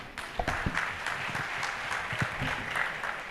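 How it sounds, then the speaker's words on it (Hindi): A seminar audience at a medical gathering during the Shree Adishakti Puja at Saptashrungi Gad claps for the doctors, a soft, even patter of applause with a few sharper claps, heard from a distance. "बहुत बहुत तालियां बजती रहनी चाहिए डॉक्टर अंकल और डॉक्टर आंटी के लिए।"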